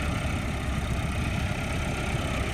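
A Massey Ferguson MF 385 tractor engine runs with a potato bed cutter attached, producing a loud, close, steady low rumbling drone with no pauses and no talk.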